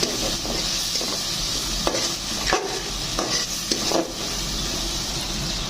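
Masala being stir-fried for goat liver bhuna, a steady sizzle under repeated spoon scrapes against the pan, close and fairly loud with no talking.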